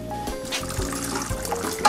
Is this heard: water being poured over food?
yes